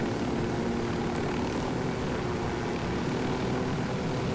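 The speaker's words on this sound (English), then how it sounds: "We'll ditch the helicopter somewhere nearby." A helicopter in Ghost Recon Wildlands roars with a dense, continuous rotor and engine drone, loud and unbroken throughout, with no talking.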